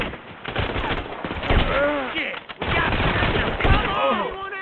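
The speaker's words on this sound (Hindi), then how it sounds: "अभी यार ये कहाँ से गोलियां मार रहा" Gunfire in the GTA 5 video game, with shots crackling in bursts beneath a man's excited, nearly continuous talking.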